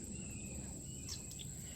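Small frogs peep and chirp steadily at a wildlife and environmental area, a faint continuous chorus of thin calls with a low outdoor rumble underneath.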